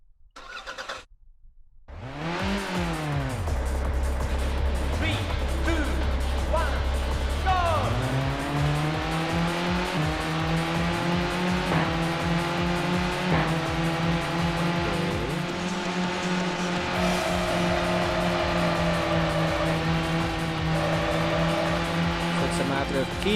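A car drifting in the PlayStation racing game Touge Max 2 howls with a loud, sustained engine note that starts up, revs through rising and falling pitch, then holds steady. Tire noise runs beneath the engine throughout.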